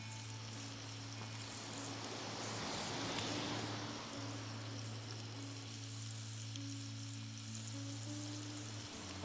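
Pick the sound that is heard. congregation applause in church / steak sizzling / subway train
steak sizzling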